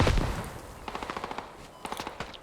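Machine gun fire in a tactical shooter video game: a loud opening blast, then a rapid even burst of about eight shots, followed by a few sparser shots, with no talk.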